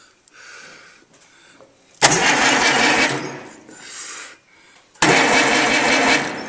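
An Allis Chalmers WD45 tractor engine cranks over on its starter in two loud, close bursts separated by a short pause, without firing. Quieter mechanical noise comes before the first burst.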